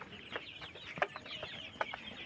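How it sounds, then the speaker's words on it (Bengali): Colored broiler chickens, 27 days old, cluck on a farm in scattered short calls, a few sharper clucks standing out nearby against a low flock murmur, without talking. "দেখেন মুরগি নিজে নিজে এখন পালায় উঠে যাচ্ছে"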